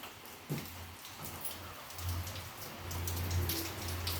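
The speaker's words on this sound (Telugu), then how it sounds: "ఈరోజు అయితే ఫుల్ వర్షం పడుతుంది" Heavy rain falls steadily outside during a stormy, overcast day, a continuous broad hiss that swells a little louder in the second half, with a low hum underneath and no talking.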